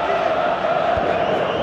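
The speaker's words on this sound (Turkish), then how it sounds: "Bu çalım tribünlerden alkış aldı." Stadium crowd in the football video game PES 2018, during a Brazil versus Switzerland match, roars and applauds a dribble: a steady, dense wash of cheering and clapping that holds for the whole moment.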